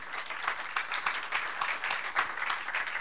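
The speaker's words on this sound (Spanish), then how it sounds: "Dale un aplauso al Señor" A church congregation applauds with steady, dense clapping that stays even and moderately loud throughout, with no break in the sound.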